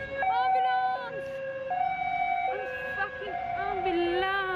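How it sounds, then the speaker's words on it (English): An ambulance siren passing in a city street, its wailing two-tone pitch stepping up and down loudly over traffic noise. "Ambulance! Ambulance!"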